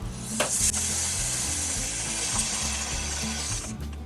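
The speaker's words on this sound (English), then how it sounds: "So we're going to put a little bit more water in there." A garden hose runs steadily into an RV's waste tank in England, filling it with water for a rinse. The close, even hiss of flowing water holds throughout over a low background hum.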